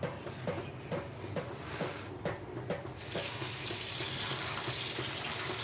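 Green chickpeas are rinsed under a running kitchen tap, with several close splashes and clicks at first, then a steady gush of water filling the sink.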